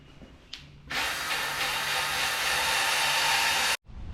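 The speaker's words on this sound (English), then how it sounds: "we're gonna hit it with a wire wheel" A wire wheel grinds away stuck cork gasket material on an old Ford Courier engine, a sharp harsh whir that starts abruptly, holds steady for about three seconds and cuts off suddenly, loud and close.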